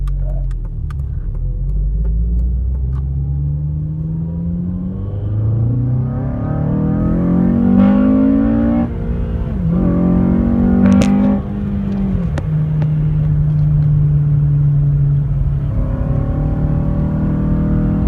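A Honda Civic FA5 on new coilovers and camber arms accelerates hard through several gears from a stop sign, its engine revving up loudly in rising sweeps with brief dips at each shift, heard from inside the car.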